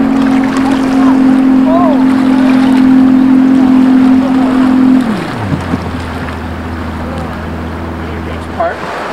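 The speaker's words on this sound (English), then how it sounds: "That is the Search and Rescue jet boat." A search and rescue jet boat engine drones steadily at close range on a river, then its pitch drops as it throttles down, leaving a lower rumble with water noise and faint voices.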